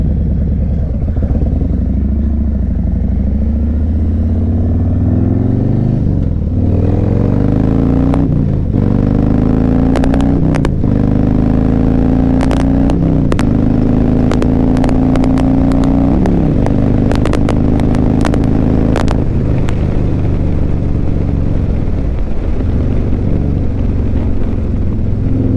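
A motorcycle being ridden, a new bike for a female rider, its engine loud and close, pitch climbing and dropping through repeated gear changes over a steady rumble, with occasional clatter and no talking.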